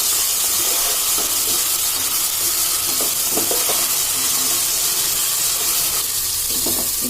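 Ginger garlic paste fries in hot oil for chicken biryani. A loud, constant sizzle and hiss carries on throughout, broken by faint clinks of stirring.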